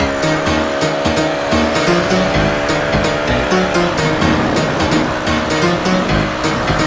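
A 2020 Rusi Korak motorcycle running in third gear on the road to Tagaytay, with a steady engine drone and heavy rushing wind noise that stays loud and close throughout.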